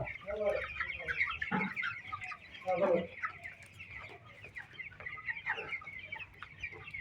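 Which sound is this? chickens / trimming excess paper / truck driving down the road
chickens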